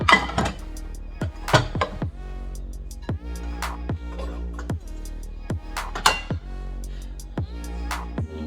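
Smaller frying pans being put away in a kitchen cabinet: a series of ringing metallic clinks and clanks at an irregular rhythm, close by, with resonant tones lingering between hits.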